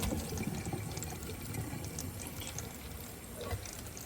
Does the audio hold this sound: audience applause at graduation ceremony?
no